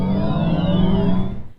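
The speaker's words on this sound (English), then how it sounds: "That's the sound of Volkswagen's ID3," Artificial driving sound of the Volkswagen ID3 electric car, a loud, brief synthetic tone with sweeping pitched layers that glide and fade out after about a second and a half, alone without talk.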